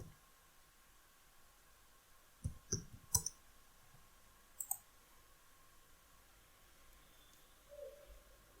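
Computer mouse clicks made while entering an OTP and validating an online income tax return, a few sharp taps spread across a quiet room, some in quick pairs.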